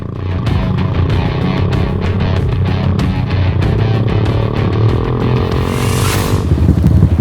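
Motorcycle engine droning steadily while riding along an extreme, rugged rural road in a remote border area, loud and continuous with shifting engine tones and no talk.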